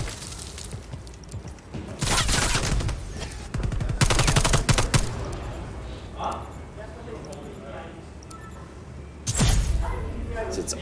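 Gunfire from a wall bang in a Call of Duty Gunfight match: loud rapid bursts of shots and booms in a few clusters, with a commentator's voice running over the action.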